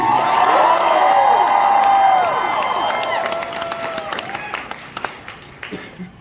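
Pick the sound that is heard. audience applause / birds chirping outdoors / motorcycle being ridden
audience applause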